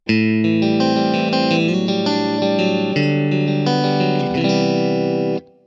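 A clean electric guitar tone from a Kemper Profiler rings out sustained chords with a shimmering, chorus-like sheen, loud and close, then stops abruptly.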